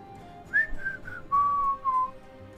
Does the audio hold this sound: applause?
no